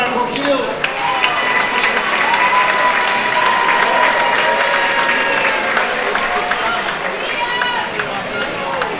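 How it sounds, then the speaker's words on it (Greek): Warm crowd applause with some cheering for the mayor of Chios at a Greek Independence celebration event in a New York hotel, continuous and steady, with voices talking and calling out amid the clapping. "θερμό χειροκρότημα για τον Δήμαρχο Χίου."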